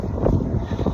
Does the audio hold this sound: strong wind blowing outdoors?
yes